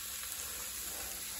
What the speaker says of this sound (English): we're going to put some olives in